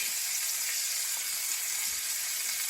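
A hake fillet pan-frying in butter, its skin crisping, gives off a steady, close, loud sizzle that runs unbroken throughout.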